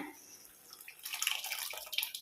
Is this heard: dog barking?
no